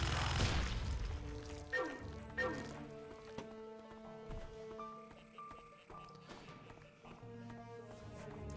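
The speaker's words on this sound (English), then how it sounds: "this is a minigun, that's it." A minigun fires in the video game Turok 3, with rapid bursts of gunfire and game effects rattling through the scene while someone talks over it.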